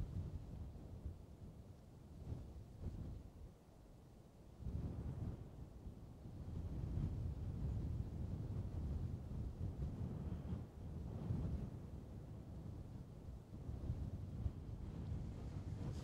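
Strong wind buffeting a handheld camera microphone at a bird reserve, loud rumbling gusts that swell and drop, with low roaring bursts and no voices.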